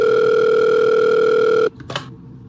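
A steady electronic telephone tone in the video game Five Nights at Wario's 3 holds loud and continuous, then cuts off abruptly, followed by a short click and faint rustle.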